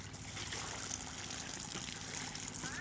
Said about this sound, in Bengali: এটা আমার দিদি জল ধরতেছে